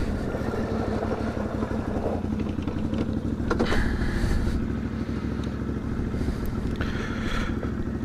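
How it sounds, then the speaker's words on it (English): A couple of ATVs passing, a continuous loud engine drone with a rumbling, pulsing low end, heard from inside a moving vehicle with wind noise. "Couple of ATVs"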